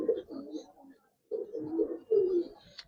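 A silver Giribaz pigeon coos close by in soft, low, throaty phrases, three bursts separated by a brief pause, quiet and without speech.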